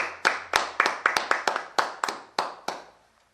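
Hand claps at a French church service, about a dozen crisp, evenly spaced claps that start quickly and then slow and fade, close and fairly loud, more like one or a few people clapping than a full congregation.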